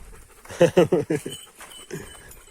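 A dog barks five times in a quick run, close by, followed by softer yips, with people talking quietly underneath.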